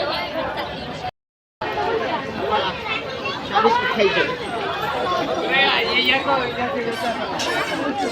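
Dense crowd chatter at the Masoba temple in Aundh, many overlapping voices in a steady babble with a brief dropout near the start, people talking throughout.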